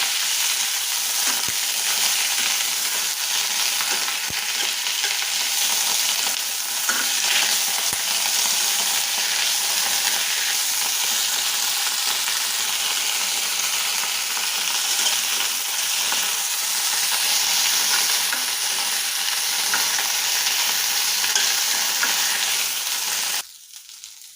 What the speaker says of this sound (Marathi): कुरकुर होईपर्यंत तळून घ्यायचे भाजून आपल्याला